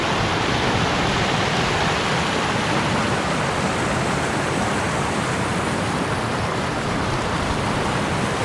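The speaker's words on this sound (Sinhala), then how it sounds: "කෙලින්ම වතුර පාර ලේක් එකට තමයි බහලා යන්නේ." Stream of water flowing into a lake near an off-grid cabin in New Zealand, a loud, steady rushing wash of water, close and unbroken.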